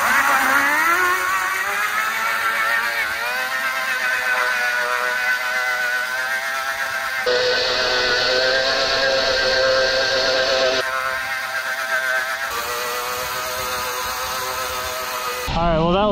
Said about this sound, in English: Let's burn some rubber